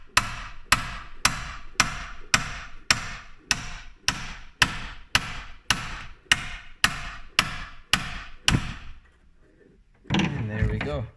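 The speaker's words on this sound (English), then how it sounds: "I'm going to try taking a hammer, giving it a whack." Hammer whacking a pipe wrench to break loose the clutch fan nut on a GMC Sierra, about fourteen sharp metallic blows in a steady rhythm, followed by a pause and brief clattering at the end.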